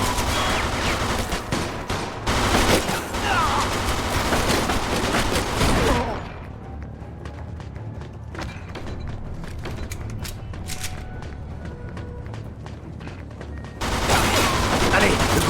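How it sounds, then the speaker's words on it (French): Gunfire in a shootout in the Mafia II video game, heavy bursts of shots and booms that thin into scattered distant cracks and clatter before swelling again, with game voices talking over it. "Ils me tirent dessus, ces enfoirés!"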